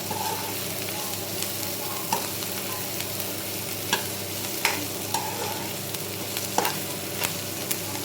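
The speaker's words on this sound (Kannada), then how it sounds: "ಕಂದು ಬಣ್ಣಕ್ಕೆ ಬರುವಾಗ ನಾವು ಕರಿಬೇವು ಸೊಪ್ಪು ಮತ್ತು ಕಾಯಿ ಮೆಣಸು ಹಾಕುತ್ತಿದ್ದೇನೆ." Mushrooms fry with curry leaves and green chillies for a mushroom pepper dry, producing a continuous dense sizzle with faint periodic stirring clicks.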